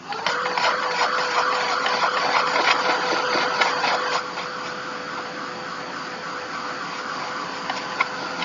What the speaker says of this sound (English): let's hit it with the heat gun for a few seconds